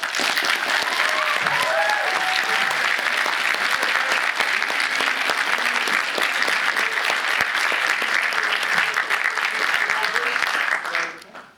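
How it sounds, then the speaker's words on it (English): Sustained audience applause at a Star Trek panel at Liverpool Comic Con, filling the room, dense and steady, with a few voices and cheers mixed in before it fades out at the end. "We're going to a big round of applause."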